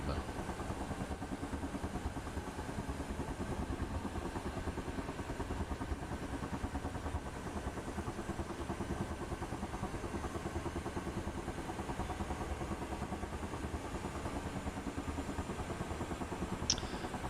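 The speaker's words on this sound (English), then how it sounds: "Engines to auto, both engines are coming up 80, 85, bit of a spike, 90" Helicopter engines spooling up in a flight simulator game, a steady loud droning whine with fast rhythmic chopping that holds throughout, no voices heard.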